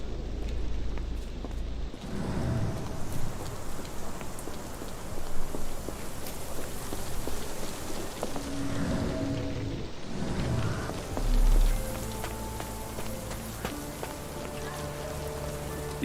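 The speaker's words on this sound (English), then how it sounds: "This dreary rain is making a miserable day even worse." Steady rain falls throughout a gloomy Victorian scene in the game Sherlock Holmes The Awakened, a continuous dense patter with low rumbling undertones and occasional soft thuds, with no voices.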